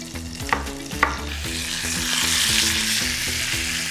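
Roughly quartered tomatoes frying in a pan with hing, two sharp utensil knocks early, then a swelling, continuous close sizzle with scraping stirs and no speech.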